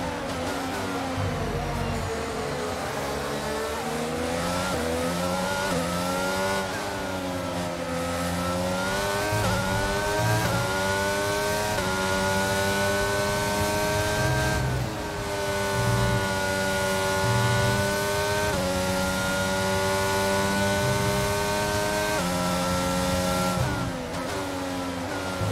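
A Formula 1 race car engine in the F1 22 video game, driven at the Belgian Grand Prix, sounds loud and close throughout. Its high-pitched whine repeatedly rises and falls through gear changes over about twenty-five seconds, with no talking.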